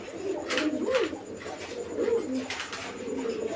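Fancy pigeons kept for sale coo in repeated low rolling phrases, close and steady over a continuous background hum, with no talking.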